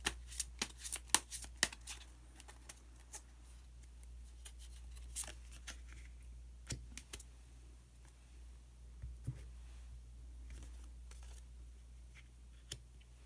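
Osho Zen tarot cards being shuffled and drawn, quiet papery flicks and riffles in uneven bursts, close and alone with no voices.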